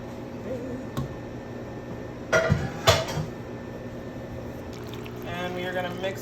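Pasta and cooked ground turkey being combined in one pan for dinner, with a couple of distinct metal utensil clanks against the pan over a low steady kitchen background, and a voice speaking briefly near the end.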